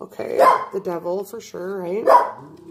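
Several loud, nearby dog barks punctuate a woman's speech, bursting out between her phrases.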